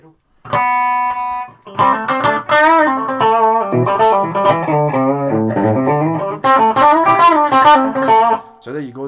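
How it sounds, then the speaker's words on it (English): Electric guitar played through a Laney VC15 valve combo amp with reverb, sustained chords and melodic lines ringing out loud and close, with reverb tails trailing between phrases. "there's a digital reverb of some description and actual proper spring reverb"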